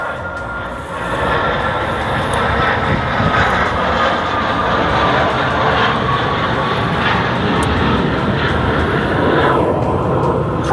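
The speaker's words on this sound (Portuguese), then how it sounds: "acabou de passar aqui um avião muito pertinho" An airplane passing very low nearby roars in a loud, steady broadband rumble that swells after the first second and holds for the rest of the clip, with no voices.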